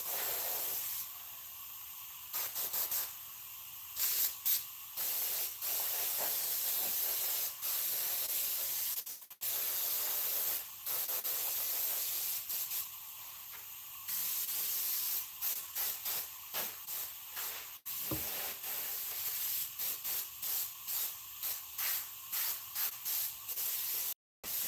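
Red spray paint hisses from an aerosol can in long continuous bursts broken by short pauses, close and steady, with quick shorter sprays near the end and no speech.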